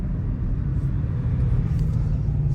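A car at a dealer-only auction driving along a road with ice on it, heard from inside as a steady low engine and road rumble, fairly loud and continuous, with no talking.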